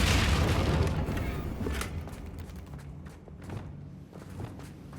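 A Confringo blasting spell explodes in the Hogwarts Legacy video game, a deep booming blast at the start that decays into rumbling thuds and scattered debris pops, moderately loud.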